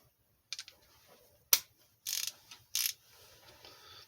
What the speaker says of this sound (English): So, yeah, I'm going to go ahead and torque these.